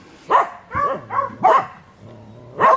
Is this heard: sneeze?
no